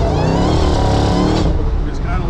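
Dodge Hellcat with an 860 hp Stage 1 package, its engine revving loudly and steadily while the tires are warmed, a deep rumble with harmonic layers that holds throughout, and voices talking over it.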